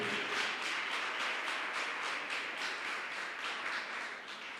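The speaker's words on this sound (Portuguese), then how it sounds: "Você pode aplaudir ao Senhor?" Congregation in a church applauding, a dense, even wash of many hands clapping together at moderate volume, sustained throughout without voices.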